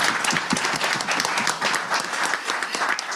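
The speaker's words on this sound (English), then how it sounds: "You've got a massive applause, lots of waving of hands" Massive applause fills a formal assembly hall at a community board plenary meeting, a dense steady roar of many hands clapping throughout, loud and continuous with no clear voices.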